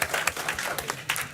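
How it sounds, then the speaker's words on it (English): Brief applause at a city council meeting in Wausau, Wisconsin, a short spell of scattered clapping from a small crowd in a room, moderately faint. "Yeah, we can clap for the Constitution."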